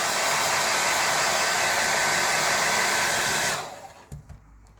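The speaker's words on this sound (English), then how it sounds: "then from far away get the dryer in there a little bit, just to get the ends dry" A hair dryer blows with a steady, loud whoosh for several seconds while drying a dog's coat, then switches off and winds down, leaving a few faint clicks.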